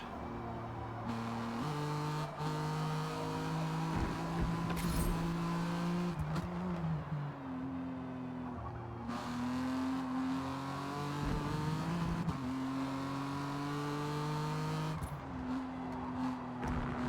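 BMW M4 GT3 race car in Forza Motorsport lapping Kyalami, its engine revving up and down through repeated gear changes, steady and fairly quiet, with no talk over it.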